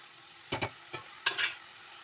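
Raw prawns fry in a pan for an Andhra-style gongura dish, giving a few short, close scraping stirs and sizzling bursts over a quiet background.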